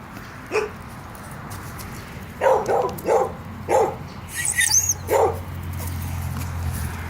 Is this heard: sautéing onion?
no